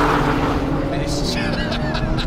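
Acura NSX Type S, C8 Corvette, Porsche 911 Turbo S and Nissan GT-R NISMO sports cars roar hard in a rolling drag race, a loud sustained engine and wind rush with voices talking over it.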